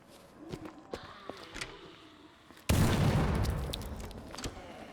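Faint distant gunshots crackle sporadically in a zombie video game, then a loud sustained burst of noise, like heavy gunfire or an explosion, erupts and slowly fades.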